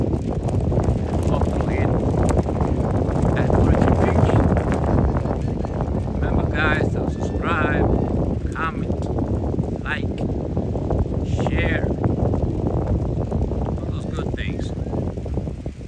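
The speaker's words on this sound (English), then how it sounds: "Very windy today." Strong wind sweeps across Orchard Beach in New York City on Memorial Day, a steady loud roar buffeting the microphone throughout with faint voices mixed in.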